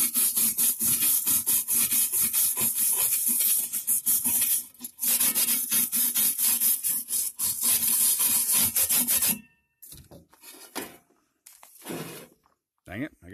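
Rapid, rhythmic scrubbing of a steel brush against zinc-coated metal from a coffee can, harsh and close, running continuously before breaking into shorter bursts with pauses.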